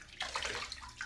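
Water splashed onto a face while shaving, a brief close wet splash and trickle that stops quickly.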